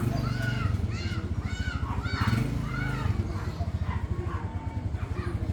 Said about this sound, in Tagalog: Yan mga kalapatids natin dyan.